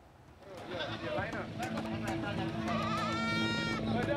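Goats left behind on a farm after the Semeru eruption in Lumajang bleat repeatedly and loudly, several calls overlapping, with talk and background noise running underneath throughout.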